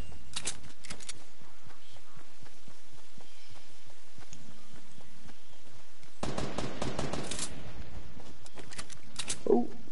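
Gunfire in the video game Fortnite: rapid trains of shots, then a denser volley near the end, moderately loud, with no talk.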